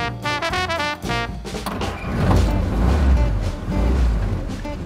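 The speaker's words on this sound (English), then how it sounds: "There's a lovely little willing engine on these." A Willys Jeep engine idles and revs up close, a steady low mechanical rumble that swells louder after the first couple of seconds and holds, with no talk over it.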